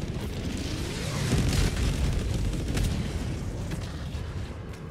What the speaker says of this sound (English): For example, this is gonna be a airstrike.